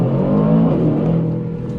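A loud, close Aston Martin DBX 707 engine accelerates hard in launch mode, a steady roaring drone whose pitch climbs through the short burst, with no voices.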